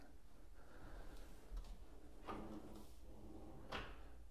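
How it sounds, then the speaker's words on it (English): A few quiet thuds and soft sliding sounds as a soft-close bathroom vanity drawer glides shut, gentle and muffled, with faint room noise in between. "soft closed drawers"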